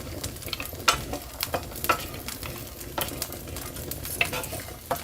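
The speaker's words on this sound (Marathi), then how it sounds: "तर आता आपण ह्यामध्ये थोडंसं आपल्याला आहे ना तेल सोडायचं आणि तेलामध्ये आपल्याला थोडंसं परतून घ्यायचं" Grated coconut sauteing in hot oil over a wood-fire stove for Kolhapuri chicken curry, a steady crackling sizzle broken by regular scraping and clinking strokes of a spatula against the pan.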